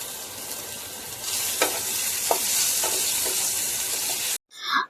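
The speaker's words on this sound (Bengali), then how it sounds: "তেলের মধ্যে আরেকটু তেল অ্যাড করে প্রথমে টমেটোটা দিয়ে দেব" Tomatoes sizzle and fry in hot oil, a steady bright crackling hiss broken by several scraping stirs of a utensil, close and loud, before cutting off abruptly into a brief splash of running water.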